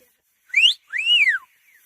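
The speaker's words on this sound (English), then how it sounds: "The dogs all have their own individual whistle sounds." A Scottish shepherd gives two sharp, close whistle commands to his sheepdogs, a quick rising note followed by a longer arching one, sounded alone in quiet.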